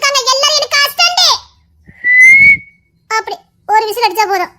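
A single clear, sustained whistle from a person, standing alone between stretches of someone talking before and after it.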